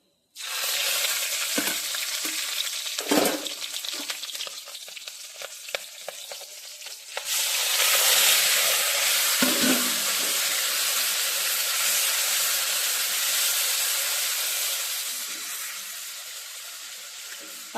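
Cumin seeds, black cumin, radhuni, fenugreek and green chillies sizzle in hot oil for a thin hilsa fish curry. The loud crackling fry jumps sharply at the start, swells again partway through with stirring clatter, then fades slowly.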